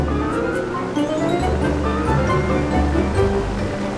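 Loud ocean waves wash and surge continuously in open sea, a steady broadband roar of surf with no voices over it.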